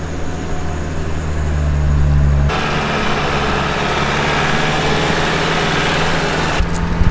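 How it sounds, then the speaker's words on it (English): A 4x4 engine crawling up a steep trail in first gear, low range, on a Victorian High Country track, with a loud, steady low engine drone that shifts in tone partway through. "Just first gear, low range, crawling up pretty much."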